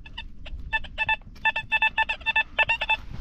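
Metal detector at an old inn site giving a steady, clean signal: a rapid train of short beeping tones in quick pulses, close and fairly loud, over faint ground hum.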